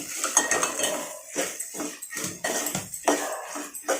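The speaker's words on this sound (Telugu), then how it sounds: "ఇది మంచిగా కలుపుకోవాలి" Flat bean curry being stirred in a pan, with a series of close metallic scrapes and clinks of a spoon against the pan in irregular bursts over a soft background hiss.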